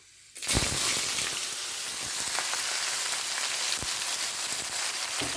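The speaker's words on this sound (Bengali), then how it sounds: "তেল গরম হয়ে গেছে, ফোড়নের জন্য দিচ্ছি মেথি আর রাঁধুনি। এখন দিয়ে দিচ্ছি সবজিটা।" Vegetables hit hot oil already tempered with fenugreek and radhuni seeds, bursting into a sudden loud sizzle that settles into a steady, dense hiss.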